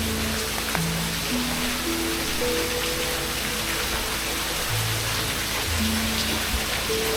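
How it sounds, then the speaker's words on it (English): A waterfall spills from sandstone cliffs at Cantwell Cliffs in Hocking Hills, Ohio, a constant broadband rush of falling water, while soft sustained musical tones play underneath throughout. "The waterfall spilled from the cliffs, a ribbon of silver unraveling against the stone."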